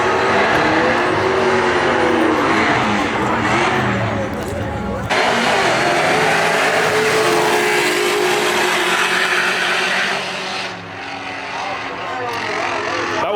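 Fast street cars make eighth-mile drag race passes at a Houston street car takeover, engines roaring and revving loudly past in long sweeping bursts, with a sharp break partway and crowd and announcer noise mixed in.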